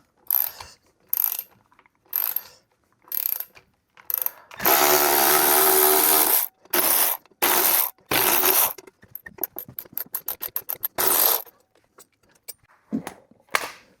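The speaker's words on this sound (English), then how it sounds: "put the tool on my little electric ratchet here and get these things out of here" A small electric ratchet backs out brake bolts on a Harley-Davidson motorcycle, with loud whirring bursts, one long sustained run, and clicking ratchet pawls between them, all close up without speech.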